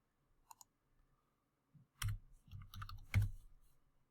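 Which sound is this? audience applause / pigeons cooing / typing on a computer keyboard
typing on a computer keyboard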